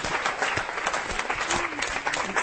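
An audience at a women's networking event applauds continuously, a full, steady wash of clapping from a seated crowd with no pauses.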